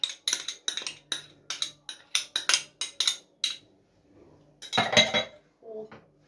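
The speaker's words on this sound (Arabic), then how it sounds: "خلاص كده انا قلبت الرز في الحاجات اللي انا حطيتها" A spoon stirs rice into an Egyptian mahshi stuffing mixture with tomato sauce in a bowl, making a steady series of close metallic scrapes and clinks in an even rhythm, then a brief louder clatter and a final soft knock.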